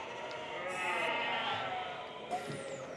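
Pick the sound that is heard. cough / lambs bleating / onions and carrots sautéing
lambs bleating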